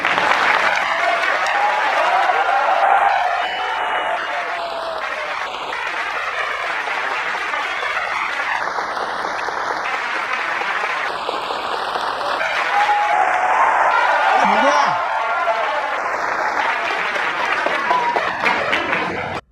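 Sustained applause from a lecture audience, a broad steady wash of clapping that holds at full strength for around twenty seconds with no speech over it.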